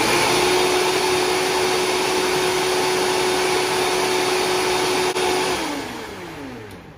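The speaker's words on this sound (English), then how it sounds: "So we'll mix this till the mango is creamy for around 30 seconds." A blender whirs steadily as it churns frozen mango into ice cream, a loud, close motor whine holding constant before slowing and winding down near the end.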